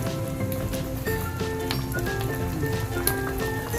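Kare-kare peanut sauce sizzling in a pan as it is stirred, a continuous dense bubbling hiss with faint tonal background sounds running through.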